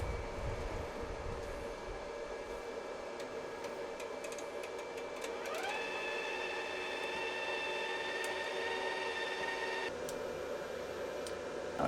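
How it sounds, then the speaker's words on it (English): Wire feed motor of a Sefaspe 135A MIG welder running, a faint steady whirring hum that rises into a higher motor whine for a few seconds before dropping back, heard close over a quiet background. "I want to make sure that I have nothing in the way of the wire feeding out"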